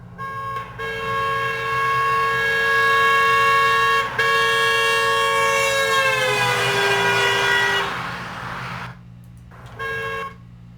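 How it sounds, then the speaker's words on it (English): A loud, sustained car horn blares as a vehicle passes, its pitch sliding downward partway through from the Doppler effect before it fades and cuts off. "Let's listen to a car horn."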